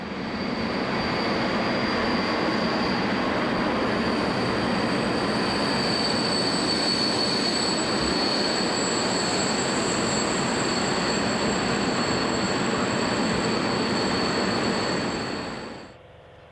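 A freight train hauled by a Class 189 electric locomotive passes at a stop where assisting locomotives attach for the climb to Steinbach am Wald. A loud, steady rumble of wagons carries a thin wheel squeal throughout, then fades abruptly near the end.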